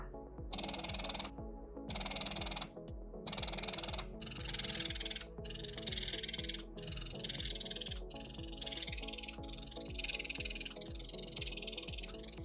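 Two closed-system breast pumps, a Motif Luna and a Spectra, run on the same cycle and suction setting. Each gives a steady rhythmic pulsing, a rising whoosh and release, one after the other, close and fairly quiet, with no talking.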